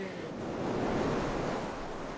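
Ocean waves breaking and washing onto a beach behind a dune, a steady broadband surf roar that swells slightly mid-clip, with some wind noise and no voices.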